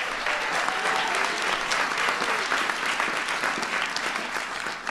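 Dense, sustained applause from a large audience at a Barack Obama speech in 2016, loud and steady throughout with no pauses.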